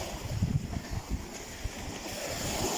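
Choppy sea waves wash onto a beach, irregular surges of water and surf mixed with gusty wind buffeting the microphone, fairly close and loud with no talking.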